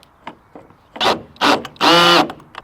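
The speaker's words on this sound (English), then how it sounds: "But Will just likes to use his fancy drill from Lidl." A cordless power drill drives screws in three short bursts, each longer than the last, with faint taps and clicks in between, close and loud, while roof rails are fitted to a VW Caddy Mk4.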